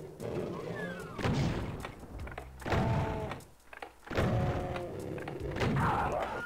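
A rocket launcher fires repeatedly at a Revenant in Doom II: four heavy blasts land about one and a half seconds apart, loud and close, with a voice faintly present between them.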